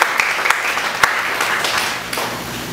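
A church congregation claps together in praise during a worship service: dense, steady applause with a few sharper individual claps standing out, fairly loud and close, with no talking over it.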